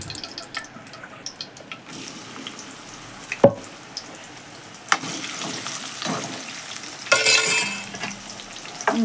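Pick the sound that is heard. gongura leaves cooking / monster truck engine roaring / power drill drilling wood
gongura leaves cooking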